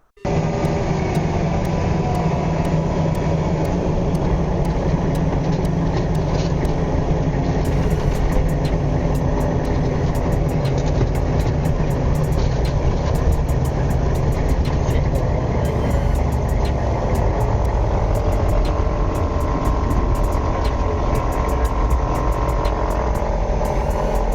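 Military convoy trucks roll through a traffic circle on a road in Iraq, a loud continuous engine and road rumble heard from inside a vehicle, steady for the whole stretch with no talking.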